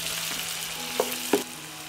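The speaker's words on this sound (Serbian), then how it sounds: "Ulje se zagrelo i propržit ću crni luk, dodajem beli luk i sve ću pržiti dok luk ne omekša." Chopped onion and garlic frying in hot oil in a deep pan, a soft continuous sizzle with two brief clinks of a utensil against the pan.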